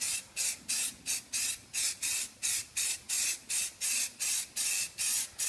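An aerosol can sprays Flexidip coating onto a car wheel in a steady run of short hissing bursts, about three per second, close and loud, as the nozzle is pressed and released repeatedly.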